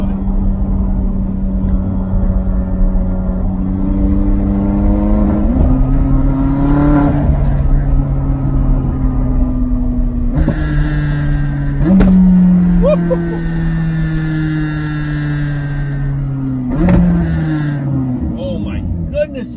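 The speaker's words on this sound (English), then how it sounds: "Oh my goodness, those downshifts are brutal." McLaren 600LT with an aftermarket exhaust roars close and loud through revving pulls, its pitch stepping sharply at each brutal downshift, with crackling pops and bangs scattered between the gear changes.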